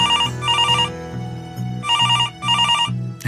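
A telephone rings in repeated bursts of rapid electronic trills with short gaps between them, loud and close, and no one speaks.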